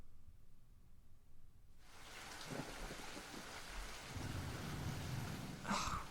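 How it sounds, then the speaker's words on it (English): Light drizzle patters down in a forest, starting abruptly after a near-silent opening and building into a steady, soft hiss of rain that holds to the end, with a few slightly louder drops near the close. "Is that a raindrop? Great, just when I thought it couldn't get any worse. Well, let's hope it's just a drizzle."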